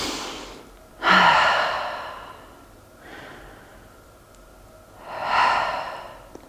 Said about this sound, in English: And take a couple of breaths.